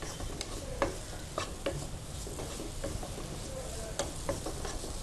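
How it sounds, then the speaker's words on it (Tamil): Lentils frying in ghee give a soft continuous sizzle in a pan, with light stirring scrapes and occasional taps, all fairly quiet and with no talking. "இந்த நெய்யில் வறுபடுற போதே வறுத்து ஊற வச்ச பருப்புங்கிறதுனால உங்களுக்கு ஒரு நல்ல வாசனை கொடுக்கும்."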